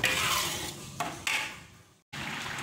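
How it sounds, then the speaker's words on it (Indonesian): A blended fish mixture for pampis cakalang being stirred in a pan as the water cooks off, giving close scraping and clinking of a utensil against the pan over a soft sizzle, broken by a brief silent cut. "kemudian di proses ini kita goyang-goyang aduk-aduk biar nggak angus"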